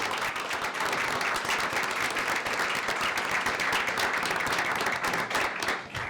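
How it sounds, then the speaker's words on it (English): Applause rolls through a city council meeting as a dense, even patter of many hands clapping, holding steady for several seconds before tapering off at the end. "let's give Chandra a round of applause for sure."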